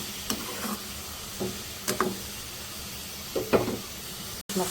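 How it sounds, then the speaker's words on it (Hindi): Capsicum and cabbage frying with chicken in a pan for Chinese chicken karahi, a steady soft sizzle with occasional sharp clatters of stirring. "भून लेंगे 1 से 2 मिनट, फ्राई कर लेंगे अच्छी तरह सब्जियों को चिकन के साथ"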